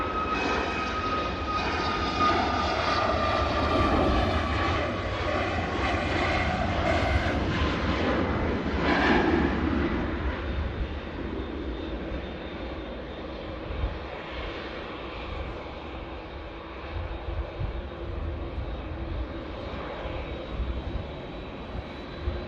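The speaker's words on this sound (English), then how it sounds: "Ryanair 737 MAX 8 200. Now taking off." A Ryanair Boeing 737 MAX 8-200 takes off, its jet engines roaring loud and sustained at first, then fading slowly into a distant rumble as the aircraft climbs away.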